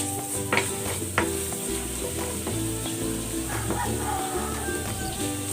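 Garlic frying in cooking oil for pork asado, a continuous close sizzle with occasional sharp scraping stirs and a steady tonal hum running underneath.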